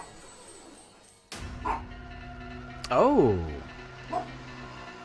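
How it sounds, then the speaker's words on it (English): A small pug lets out a few sharp yips and a whining, wavering bark at close range, while a person exclaims briefly. "Yeah, sorry for the pug barking."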